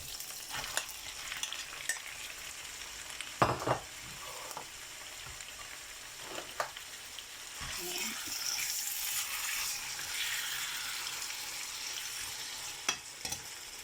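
About 1.2 kilos of chicken breast fries in a pan, a soft continuous sizzle with occasional sharp spatula scrapes and bursts of spitting oil, close but fairly quiet, no voices.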